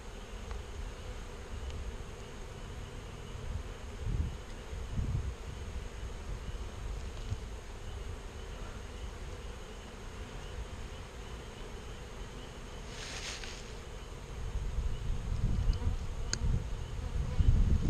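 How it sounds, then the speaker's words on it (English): Honey bees swarming around a disturbed hive during beekeeping work, a dense continuous buzz close by, with rustling and occasional handling noises and no talk. "Ooh, those bees were not happy."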